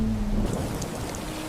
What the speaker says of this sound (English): That night, heavy rain poured across Umudara.